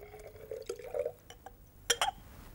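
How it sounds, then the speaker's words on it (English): Sodium hydroxide solution poured into acid in a glass conical flask, with soft liquid trickles and drips and a couple of light glass clinks, close and quiet. "let's mix the base with the acid"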